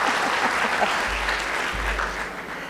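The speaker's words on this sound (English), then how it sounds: "Those people are clapping in the back." Sustained audience applause at a conference keynote address, a steady wash of many hands clapping throughout, moderately loud and slightly distant, with some clapping from the back of the hall.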